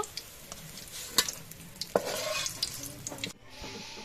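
Cauliflower fritters crackle and sizzle steadily in oil with scattered sharp pops and clinks, up close, then cuts to a quieter hiss near the end.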